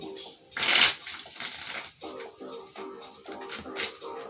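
Tarot cards being shuffled by hand, a loud burst of riffling near the start followed by softer intermittent card rustles, heard close up while someone speaks throughout.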